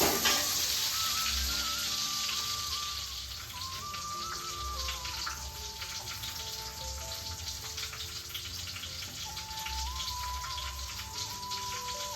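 Onions sautéing in oil in a village home kitchen give a steady, close sizzle that runs the whole time beneath background music.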